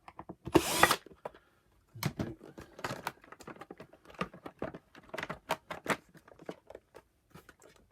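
A power drill undoes screws from the casing of a Vax Rapid Power Plus carpet washer, model CWGRV021, with one loud close whirring burst followed by a series of short clicks and rattles from the screws and parts being handled.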